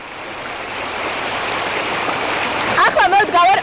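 The Rioni river in Racha, Georgia, rushes near the Odelia bridge as a loud, steady broadband roar throughout. A voice speaks over the water near the end.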